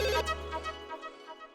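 A phone ringtone rings during a call, a short tonal electronic melody heard close and clear with no voices, its low hum cutting off partway.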